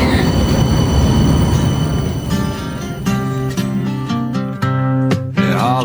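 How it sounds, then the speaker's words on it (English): Tram in the Netherlands rolling past nearby, with a loud rumble, screeching wheel tones and sharp clanks as it moves along the rails. "Oh, our tram, quick!"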